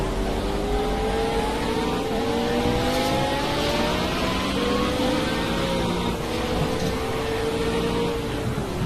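Race car engines roar continuously in a racing video game, several cars revving and shifting with rising and falling pitch, loud and close throughout.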